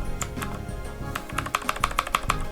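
Keys clack on a Keychron K6 keyboard fitted with blue switches, a close run of crisp clicky strokes that speeds into a quick, even burst toward the end, over a low steady hum, no voices.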